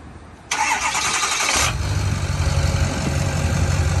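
A 2005 Ford F250 V8 turbo diesel pickup engine cranks for about a second, then fires and settles into a loud, close, rough clattering idle.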